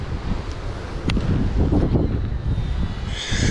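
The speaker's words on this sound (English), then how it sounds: "this wind is crazy" Strong Hurricane Nicole wind beside a shallow neighborhood pond, roaring and buffeting the microphone in loud, continuous gusts with a few sharp knocks.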